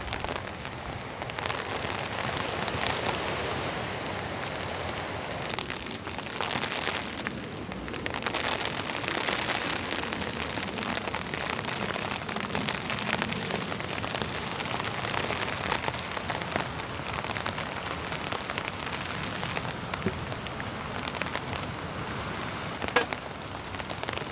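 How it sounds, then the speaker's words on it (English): Steady, dense patter of hail striking a winter camping tent close by, continuous and fairly loud throughout. "It's like a snowstorm, hailstorm."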